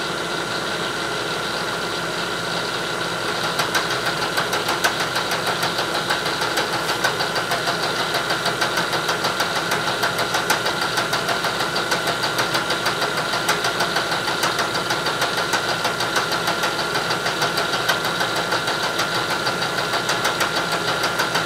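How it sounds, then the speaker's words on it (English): A metal lathe takes a cleanup cut while squaring bar stock: a steady mechanical hum carrying a fast, regular ticking rhythm, close and moderately loud, with no talking. "I'm going to take another cleanup cut to reset my"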